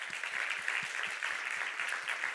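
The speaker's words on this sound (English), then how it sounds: "I would like to ask one more big applause for Laura Staring." Audience applause at the close of a lecture on contemporary Russia: steady, dense clapping from a crowd, sustained at even loudness throughout, with no talk over it.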